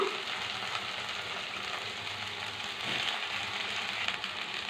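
Potato and brinjal pieces fry in a pan for a curry, giving a steady, even sizzle that holds at a moderate level throughout with no talking.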